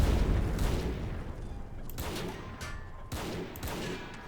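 Rifle and machine gun fire in a World War One video game: dense, continuous crackling gunfire with sharper individual shots standing out every second or so, loud and close.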